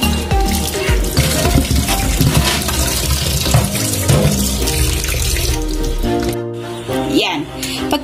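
Tap water splashes over white grubs as they are washed before cooking crispy, a loud continuous running and sloshing stream that stops near the end and gives way to a few clatters, with a voice briefly audible.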